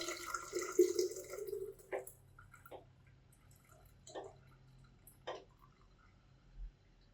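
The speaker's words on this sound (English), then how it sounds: "then filter the rice water solution." Rice water solution being strained into a jar for orchid care: a soft trickle of liquid at first, then scattered drips and small clinks, quiet and close.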